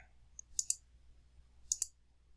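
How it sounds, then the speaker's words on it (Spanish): Two quick double clicks from a computer mouse during CAM software work, crisp and close, separated by about a second of near silence. "Aquí vamos a dar un clic sobre la pantalla"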